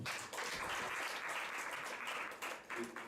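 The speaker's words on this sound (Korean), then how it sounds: "우리 박수 한번 할까요?" Congregation applause at a church youth worship service, a continuous crackle of many people clapping, fairly soft and steady with a brief dip near the end.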